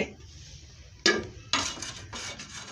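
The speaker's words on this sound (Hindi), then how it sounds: "कढ़ाई को चूल्हे पे चढ़ा लेंगे" A metal wok is set onto a home stove with two distinct clanks about half a second apart, each followed by brief metallic ringing and scraping, over a low room hum.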